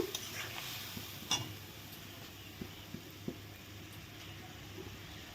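Papaya curry sautés in a pan with a steady low sizzle, while a utensil stirs and clinks against the metal a few times, quietly and without talk.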